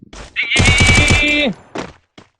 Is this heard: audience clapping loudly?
no